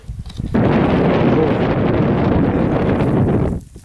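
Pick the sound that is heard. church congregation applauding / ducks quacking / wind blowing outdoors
wind blowing outdoors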